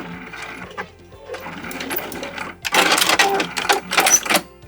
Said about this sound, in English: I'm just going to go a couple inches away from this corner and do a back stitch